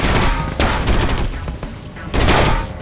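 Explosions from a firing sequence in the Area-51 shooter game: loud rumbling blasts that swell and fade, with a fresh burst near the end.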